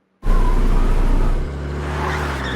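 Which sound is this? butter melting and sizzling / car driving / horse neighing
car driving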